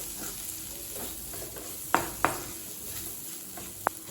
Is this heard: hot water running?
no